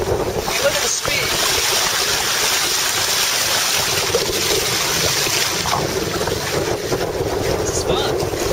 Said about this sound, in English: I am sailing on a kayak, but you would never know it was a kayak